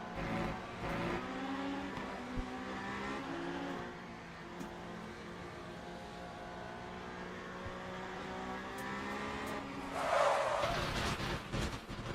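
A hypercar in the Le Mans Ultimate racing game revs hard with a sustained engine drone that shifts pitch, ending in a burst of tire skidding and screeching near the close.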